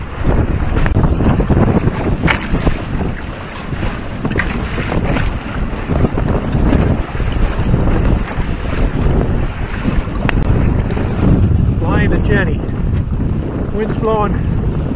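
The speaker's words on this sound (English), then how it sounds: "Wind's blowing" Strong wind buffets the microphone while sailing a trimaran, a loud, continuous roaring rush with water sloshing against the hull throughout and brief voices now and then.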